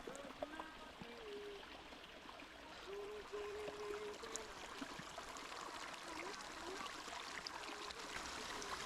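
Fresh stream water flows on Mount Rainier along the Van Trump Trail toward Comet Falls, a soft continuous trickle and gurgle heard from nearby at low level, with faint chirping above it and no talk.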